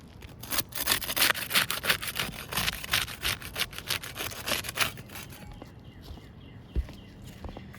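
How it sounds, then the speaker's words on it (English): A putty knife scrapes under sealed roof shingles in quick, rhythmic rasping strokes for about five seconds, then falls quiet apart from a single knock. "We use the putty knife to unseal the top shingle."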